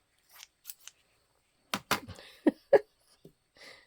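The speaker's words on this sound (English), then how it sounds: "So, I'm going to try to cut this." Scissors snip through paper or card while crafting a journal envelope, making a few short, close crisp cuts spread across the moment with small pauses between them.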